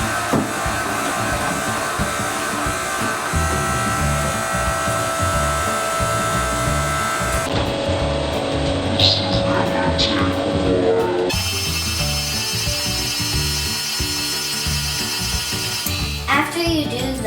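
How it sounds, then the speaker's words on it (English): An electric mixer whirs steadily while beating the wet ingredients for vanilla cupcakes until light and fluffy, its tone shifting partway through, with someone talking over it. "And mix it until it's light and fluffy."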